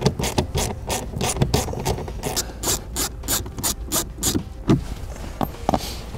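Hand ratchet backing out two 7 mm screws from an interior panel on a 2016 vehicle being set up for towing: a quick series of sharp, close clicking bursts in an irregular rhythm, with no talking.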